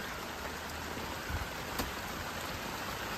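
Rain falling outdoors in a garden among sponge gourd plants, a soft steady hiss of drops that stays faint and even throughout, with no voices.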